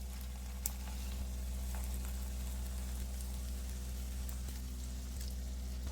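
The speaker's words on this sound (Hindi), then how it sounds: "ऑयल भी गर्म हो गया है, तो अब हम इसको इसमें डालते जाएंगे।" Onion and moong dal tikki patties shallow-frying in hot oil, a steady soft sizzle and crackle over a constant low hum, with no talking.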